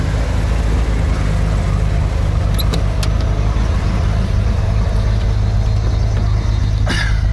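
A 1990 Ford F250 XLT Lariat 4x4 truck drives along, its steady low engine drone and road rumble filling the cab without a break, with a brief click or rattle near the end.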